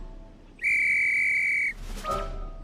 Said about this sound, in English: Kip blew his whistle.